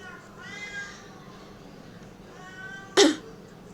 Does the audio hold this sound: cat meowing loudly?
yes